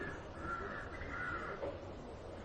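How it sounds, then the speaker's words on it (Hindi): Crows caw in a short burst of harsh calls, faint and somewhat distant against a quiet outdoor background. "सुनते हो इन पक्षियों की आवाजों को?"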